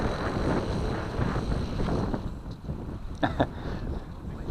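Side wind buffeting the microphone at a model aircraft field, a loud rumbling gust that eases toward the end, with a couple of brief faint knocks.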